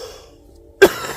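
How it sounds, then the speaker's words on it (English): A single sharp cough bursts out close to the microphone near the end, after a quiet stretch, from a person solo camping outdoors at night. "can't quit coughing"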